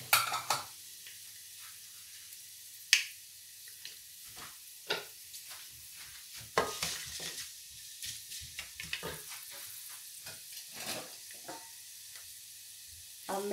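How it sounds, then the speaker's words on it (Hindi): Kasuri methi is tossed into hot oil with cumin, bringing a steady bright sizzle broken by sharp clinks and scraping taps of a spoon against the pan, close and clear with no talk. "और अब हमारा जीरा भी थोड़ा बीच में पक चुका है तो मैं अब इसके बीच में कसूरी मेथी डाल रही हूँ।"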